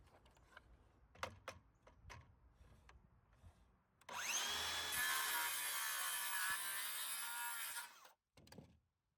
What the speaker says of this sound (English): Use the speed square as a guide. Place it on the lumber and hold it down with the clamp. This makes it much easier to run the saw straight